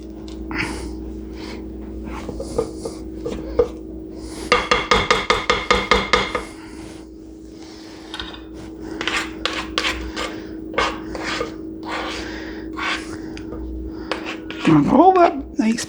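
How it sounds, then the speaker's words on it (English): A spatula scrapes cake batter from the sides and bottom of a mixing bowl in a series of short, close rasping strokes, with a quick rhythmic run in the middle, under a steady hum and a voice talking throughout. "I'm going to give the sides a scrape."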